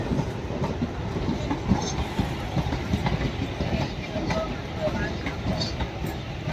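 A train rumbles steadily into the platform at Berhampore Court railway station, the roar of wheels and carriages continuous and close, with faint voices in the background.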